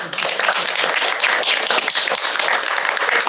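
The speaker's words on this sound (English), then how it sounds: "Round of applause for the materials and the organizing from our" A round of applause at a board meeting, many people clapping in a dense, steady burst that fills the room for a few seconds.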